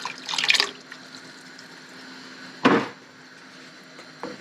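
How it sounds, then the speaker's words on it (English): Two cups of water poured into a pot of turkey butternut squash chili with pumpkin and tomatoes, a short splashy pour followed by a pause and a second brief splash. "We're also going to add 2 cups of water."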